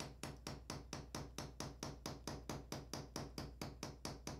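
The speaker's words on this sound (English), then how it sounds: "I flatten out the ends of the rivets." A small riveting hammer strikes copper rivet ends in quick, even taps, about four per second, close and crisp with a metallic ring, and no talking.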